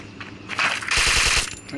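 Gunfire in the mobile battle game Free Fire: a quick, close automatic burst of roughly five sharp shots in a row, ringing out loud after a brief quieter lead-in.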